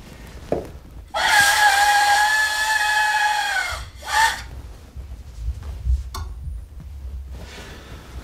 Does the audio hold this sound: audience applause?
no